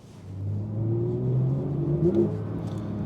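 A Porsche 992 GT3 Touring revs up with a rising, whirring engine note, then its PDK gearbox makes a quick shift with a brief pitch jump before the engine settles, on a night drive.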